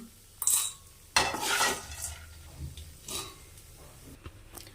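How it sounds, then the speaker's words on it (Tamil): Fried sun-dried vegetables for a tamarind curry get scooped from a pan into another vessel, with a few sharp metal scrapes and clinks of a spoon against the pan, quiet and separated by pauses. "இந்த வத்தல்லாம் ஒரு பாத்திரத்தில் மாற்றி வச்சுக்கலாம்"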